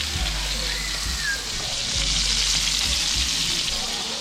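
Skin-side-down food sizzles in a hot frying pan, a dense continuous crackle and hiss close to the mic, with occasional low bumps of the pan.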